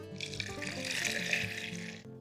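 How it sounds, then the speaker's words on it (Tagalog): Filtered water pours steadily into a homemade mustard mixture in a kitchen, a bright continuous splashing stream that stops suddenly at the end. "mandadagdag tayo ng 3 kapat na tasa ng na-filter na tubig-tubig na idadagdag natin"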